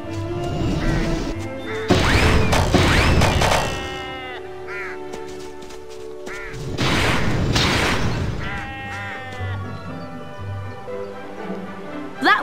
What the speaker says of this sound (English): Hit the glass jar.